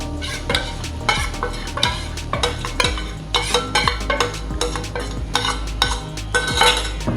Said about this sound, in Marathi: आता ही पण आपण तेल सुटेपर्यंत परतून घेणार आहे.